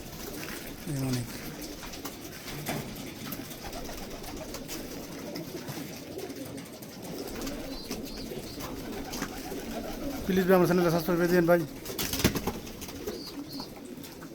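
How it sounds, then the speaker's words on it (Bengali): A crowd of pigeons and young squabs in a Saudi Arabian loft coo with low, steady burbling throughout, swelling into a louder burst near the end, while someone talks over them. "ভাই অগণ্য কবুতর"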